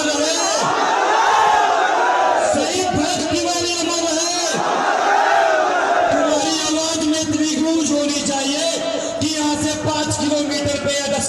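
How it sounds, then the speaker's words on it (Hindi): Thousands of people at a packed mahapanchayat shouting together, with loud surging roars and a dense babble of voices, swelling in waves and sustained throughout. "हजारों लोगों की भीड़ इस महापंचायत में थी"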